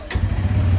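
A Bajaj Pulsar N160 motorcycle engine fires up with a brief starter burst and settles at once into a low, steady idle thrum, close and loud.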